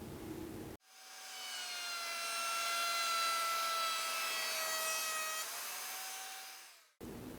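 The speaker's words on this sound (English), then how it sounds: "have a listen to that 10 amp router before I hook up the dust collection" A Skil 10 amp router runs with no dust collection hooked up, spinning up into a steady high-pitched whine that holds for about six seconds and then cuts off, loud and close with no talking.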